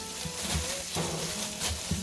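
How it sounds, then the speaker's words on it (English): Butter sizzles and fries in a hot pan, a steady soft crackle with a few faint bumps and stirring sounds. "So we are going to put some butter in the pan."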